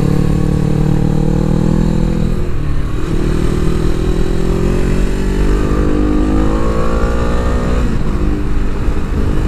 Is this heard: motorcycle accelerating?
yes